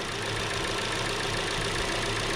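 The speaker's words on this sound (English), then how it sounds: "We already started the engine" A 2010 Opel Astra J with a 1.8 petrol engine idles steadily and close by, its smooth, even hum continuous throughout with no voices.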